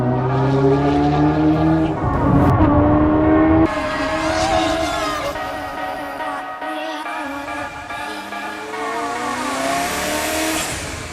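A Ferrari F40 engine revs hard on the roads of Monaco, a loud, close, rising and falling roar with gear changes and a sustained high-pitched howl throughout.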